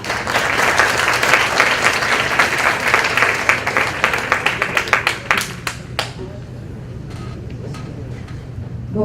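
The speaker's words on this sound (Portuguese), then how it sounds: "La recibimos con un fuerte aplauso." An audience gives loud, dense applause for a speaker at a conference talk. After about six seconds it thins into scattered, fading claps.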